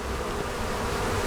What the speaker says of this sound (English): forager bees coming out of the hive and taking their first flights around the hive